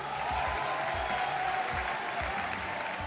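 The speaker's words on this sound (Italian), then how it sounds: "Un applauso a tutti e due." A crowd at a televised rap battle breaks into loud, sustained applause, dense clapping filling the space from start to end, with faint low musical thumps underneath.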